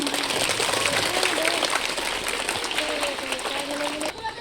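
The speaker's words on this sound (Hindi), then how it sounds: "सभी बच्चे जोरदार ताली।" Children clap together at a school Teachers' Day celebration, a steady dense patter of applause running throughout, mixed with background chatter and voices before fading slightly at the end.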